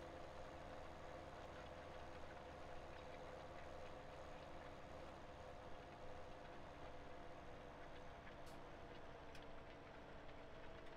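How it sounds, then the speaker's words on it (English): In Farming Simulator 17, a tractor engine idles down while rolling along a steep hill, giving a steady, low, even drone that stays constant and fairly faint, with no talking and only a couple of small clicks near the end. "Just listen to the engine. As it goes down this hill, you can really hear it idle down."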